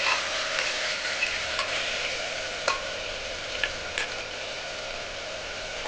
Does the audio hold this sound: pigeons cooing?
no